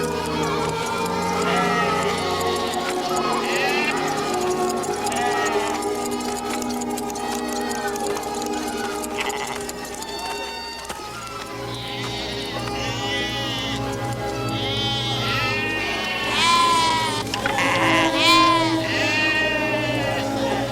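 Sheep bleating repeatedly in a shearing pen, several animals calling over and under a dense mix of music and background sounds, with louder bleats clustered toward the end.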